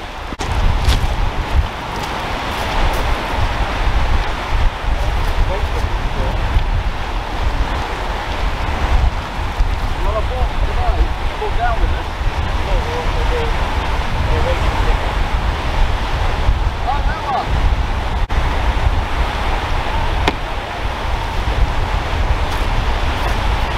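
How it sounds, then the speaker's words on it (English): Strong wind on the beach at Selsey, a constant roaring buffet across the microphone mixed with the wash of surf, steady and loud throughout with no break. "The wind's a lot stronger than I thought it was going to be."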